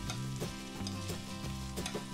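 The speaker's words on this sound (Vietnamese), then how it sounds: "mình đảo cho nó đều hết." Close, loud sizzling of squid in a frying pan with rhythmic scraping strokes as a utensil stirs and tosses it, several quick clinks mixed in.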